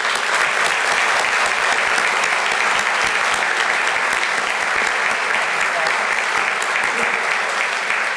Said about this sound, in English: He deserves a second round of applause from everybody.